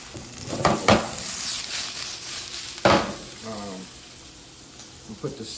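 Potatoes simmering in a shallow layer of oil with seasoning, sauté style, give a steady faint sizzle broken by a few louder clatters of stirring, with a short stretch of speech partway through.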